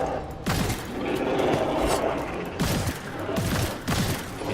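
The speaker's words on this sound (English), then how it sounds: "I'll just keep shooting him in the face, because that appears to be working" Repeated gunfire from shooting an enemy in the video game Immortal: Unchained, a few bursts of booming shots with mechanical clatter over a steady game background, no talking.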